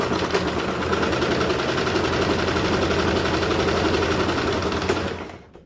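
A sewing machine runs a straight stitch along fabric seams for a face mask cover, a steady, rapid mechanical whir that holds at an even pace for about five seconds before winding down and stopping.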